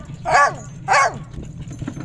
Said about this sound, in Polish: ty szczekasz i masz głos jak dzwon